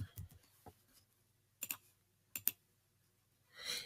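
A computer mouse gives a few sharp, isolated clicks, close and quiet, spaced irregularly over near silence with a faint low hum beneath.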